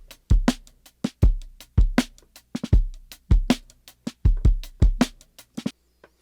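A processed drum kit with an SM57 on a Ludwig Acrolite snare gives a tinny, driven, crunchy groove of punchy hits in a steady pattern, close and loud with no other sounds.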